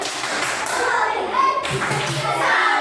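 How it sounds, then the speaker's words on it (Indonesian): A group of children clapping a short rhythmic pattern together, with voices mixed in, fairly close and loud. "Tepuk salut. Tambah banyak."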